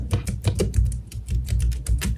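Rapid, steady clicking of typing on a Samsung Galaxy Tab S6 Lite keyboard, close and fairly loud, with dense irregular keystrokes and no talking.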